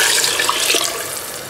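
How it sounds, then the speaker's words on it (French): Water pouring steadily into a cooking pot for harira with rice, a loud, continuous splashing rush up close that eases slightly toward the end. "Je vais arroser avec de l'eau."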